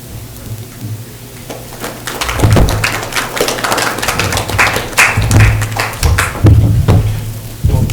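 Audience applause fills a Vermont Senate debate hall in October 2024, a dense, steady patter of many hands clapping that swells and holds close and fairly loud for the full stretch, with no talking over it.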